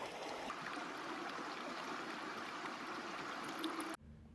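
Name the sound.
water squeezed from a filter bag into a container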